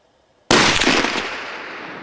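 A single deer rifle shot fired at a long-range target outdoors: after near silence, one sharp, very loud report hits at once and then rings out in a long decaying rumble, with no talking.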